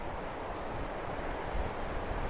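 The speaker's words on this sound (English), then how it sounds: "this beautiful little river right here" A small mountain river near the old Poudre City site rushes steadily, a dense, even broadband wash of flowing water, close and moderately loud, with a touch of wind buffeting the microphone and no voices.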